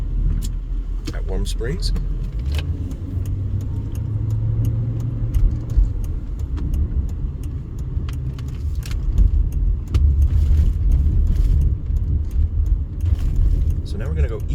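A car pulls away from a green light on a Las Vegas street near the airport, its engine rumbling low and steady from inside the cabin while someone talks over it.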